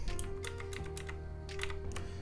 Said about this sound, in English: Keyboard's loud, but I can't really do much about that.